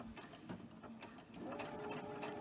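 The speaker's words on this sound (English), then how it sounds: "you're just going to start sewing right here" A sewing machine stitching cotton fabric at a quilting table: a quick mechanical whir of the needle running in short bursts, close and fairly quiet, without speech.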